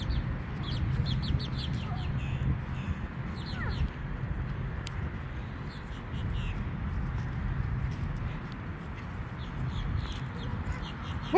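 Chickens cluck and small birds chirp at a roadside rest stop in Georgia, quick bursts rising intermittently over a steady rumble of traffic and wind.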